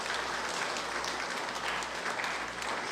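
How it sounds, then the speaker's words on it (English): An audience at the launch of an international centre for educator innovation gives a round of applause for the Minister, a dense, even wash of clapping throughout. "Let's give the Minister a bigger round of applause"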